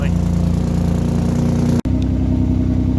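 An idling Austin Healey 3000 engine with an exhaust blow underneath rumbles close and steady with a slightly tinny, pulsing burble, briefly cut by a sharp dropout near the two-second mark.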